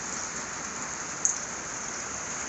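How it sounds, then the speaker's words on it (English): Rain falling steadily on a cold, windy farm day, a dense, even hiss of drops on surfaces close by with one brief louder tap, no voices. "it's raining now."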